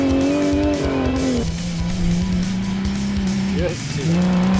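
A Bantam rally car at a race, driven sideways, its engine droning loud and close with a shifting pitch and tyres scrubbing, while a commentator talks over it.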